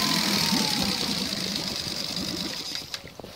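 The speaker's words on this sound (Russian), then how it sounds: "Чуть двигатель поработал на малых." A Tohatsu EFI outboard motor, warm after running at full throttle, idles at low revs with a steady, rapid knocking putter, close by, gradually easing slightly in level.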